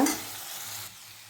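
Onion and tomato sizzle and are stirred in a hot pan up close, a brief crackling hiss that drops off quickly.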